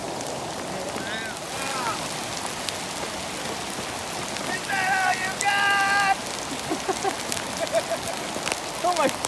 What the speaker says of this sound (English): There's some big hail.